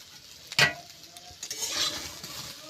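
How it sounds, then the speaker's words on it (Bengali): A lid is lifted off a cooking pot of boiling food with a single sharp metallic clink, followed by a soft steamy hiss in an otherwise quiet kitchen. "ঢাকনা খুলে দেখে নেব সিদ্ধ হলো কিনা"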